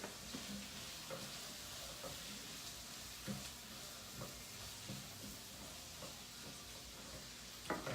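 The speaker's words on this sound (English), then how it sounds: "let me just stir up my succotash real quick" Succotash stirred in a hot pan, a constant hissing sizzle with soft, scattered scrapes and taps from the spoon, close and even throughout with no voices.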